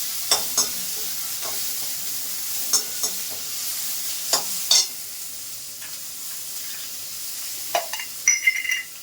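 Indian tomatoes frying in a pan for green tomato chutney hiss with a steady sizzle, broken by several sharp spatula scrapes and taps; close, clear, and without speech.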